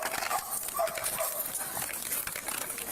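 A dog at a police scene in Houston gives a few short, faint barks in the distance, half buried in hissy outdoor noise and scuffling.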